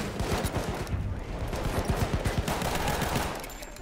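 Rapid gunfire in the video game Battlefield 1, dense bursts of shots in quick rhythmic succession, close and continuous before thinning slightly at the end.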